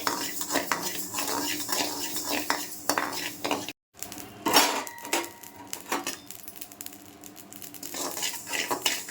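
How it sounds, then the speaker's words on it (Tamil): Four tablespoons of mustard seeds roast in a dry kadai while being stirred, giving steady scraping and metallic clinks of a spoon against the pan with a faint crackle, continuing after a brief pause. "கடுகு சீக்கிரமாக பொரிஞ்சிடும்."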